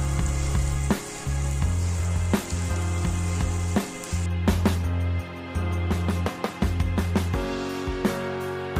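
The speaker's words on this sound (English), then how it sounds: "I'll add in the blended pepper and onion mixture and just stir that in and allow it fry for about 5 to 7 minutes" Blended pepper and onion mixture frying in palm oil for a garden egg sauce, with a steady sizzle under irregular stirring and scraping knocks against the pot, close and fairly loud, with no talking.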